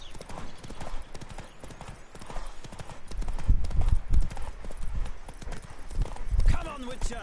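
Rapid hoofbeats of a galloping horse in the video game The Witcher 3: Wild Hunt pound steadily throughout, with a voice speaking over the rhythmic clatter.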